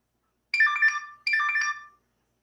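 A phone ringtone during a call, two short bright electronic ring bursts with a brief gap, clear and alone in silence.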